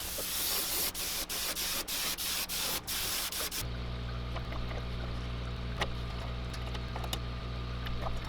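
An aerosol can sprays white paint onto hot lead fishing baits in a long, close, hissing blast that is briefly broken by a few pauses, followed by a steady background hum.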